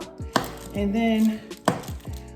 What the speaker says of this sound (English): So I'm gonna go ahead and chop this soap up